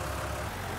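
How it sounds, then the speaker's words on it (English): A tractor engine in Farming Simulator 19 drones at a steady low idle, loud and even from outside the vehicle, alone with no talk. "the exterior volume for tractors is extortionate"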